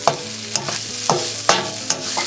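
Garlic stirred into onions frying in a pan, with rhythmic scraping strokes of a utensil and a continuous sizzle, close and fairly loud.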